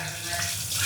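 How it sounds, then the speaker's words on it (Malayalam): Water runs from an open tap in a kitchen, a steady close rushing splash lasting the whole moment with no talk over it. "പൈപ്പ് തുറന്നിട്."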